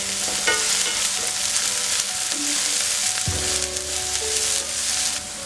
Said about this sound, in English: we want the onions to be a little bit translucent before adding the tomato sauce